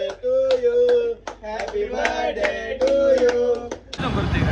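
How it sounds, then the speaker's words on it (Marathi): At a birthday gathering, several people clap in a quick, regular rhythm while voices sing over the claps, ending in a short noisy rustle. "वाजवा टाळ्या झाला."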